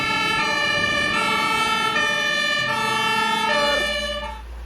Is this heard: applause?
no